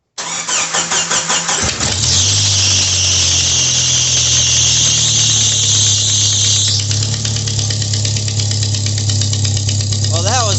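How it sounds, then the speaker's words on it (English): A 1997 Jeep Wrangler 2.5L engine cranks with rapid ticking, catches and roars to a loud idle while a shrill fan belt squeal screeches for several seconds, then fades. The engine has a blown exhaust gasket. "I was not expecting the fan belt to screech"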